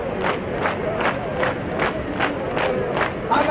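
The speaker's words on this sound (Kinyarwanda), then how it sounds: "amashyi menshi" A large outdoor crowd at a ceremony near a rice irrigation dam clapping and chanting in a regular rhythm, about two beats per second, loud and sustained.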